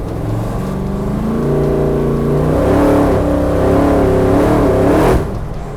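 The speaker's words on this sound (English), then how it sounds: "As she starts to build up RPM, she starts to accelerate." A big block Chevy powered Holden Torana accelerating hard, its deep engine note climbing steadily in pitch as the revs build, loud and close, then dropping off abruptly near the end.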